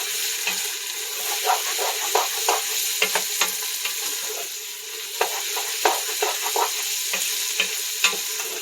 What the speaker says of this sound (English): let this fry for about 30 seconds